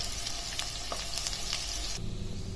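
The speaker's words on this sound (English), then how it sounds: "Now while the onions are frying" Steady crackling sizzle of onions frying in a hot pan, continuous and close, with brief stirring scrapes and a slight drop in intensity near the end.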